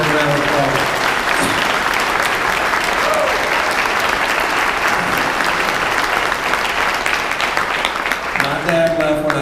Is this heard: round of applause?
yes